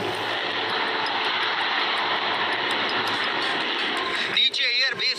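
Taiwanese fighter jet roaring overhead during an air-raid alert, a loud sustained broadband engine rush filling the scene throughout, with a voice briefly cutting in near the end.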